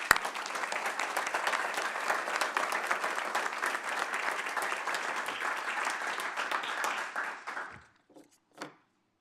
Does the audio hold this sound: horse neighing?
no